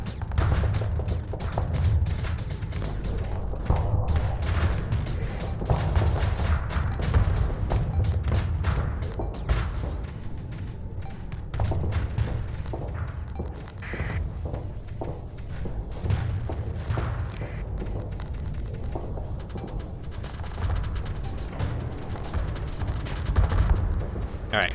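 Torpedoes and weapons fire from a Starsector space battle make dense, continuous booms, thuds and rapid impacts. The clatter runs loud and unbroken, with voices shouting intermittently over it.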